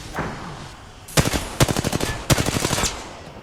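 Gunfire in a video game firefight, arriving as three quick bursts of loud, rapid automatic shots separated by short pauses, close and punchy, with no talk over them.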